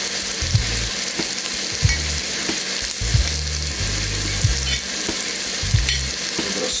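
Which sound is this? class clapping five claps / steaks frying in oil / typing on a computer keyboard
steaks frying in oil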